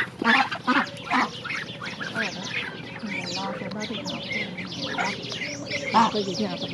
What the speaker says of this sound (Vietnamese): Đây là những con vịt sim các bạn, thì sẵn sàng vô chuồng để đem đi bán.